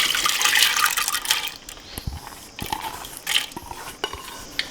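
Soaked toor dal tipped with its soaking water into a pressure cooker, a few wet splashes and pours with light metal clinks, close by and with no talk.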